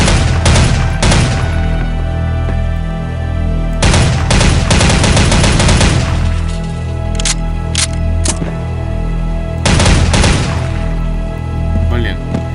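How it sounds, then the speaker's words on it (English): Grenade launcher fire in the Soldier of Fortune shooter game: loud, sharp blasts arrive in three separate clusters across the stretch, each a quick flurry of booming reports with a steady game-engine hum between them. "Now, destroy the target with a grenade."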